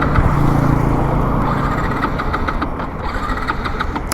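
A Yamaha MT-15 motorcycle engine runs close by, a loud, steady idle with a low rumbling thrum and faint ticking pulses, continuous throughout with no talking.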